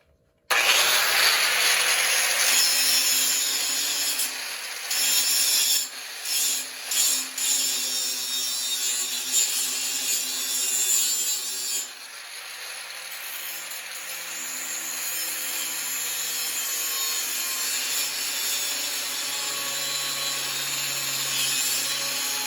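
Metal pipe on a go-kart roll cage being ground with a power grinder, a loud continuous whining drone with short stuttering dips early on, then settling into a steady grind.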